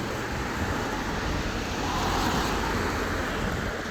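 Cars pass steadily on a rain-wet road, a continuous broadband traffic wash with tire hiss that rises slightly midway, heard from the roadside with no speech.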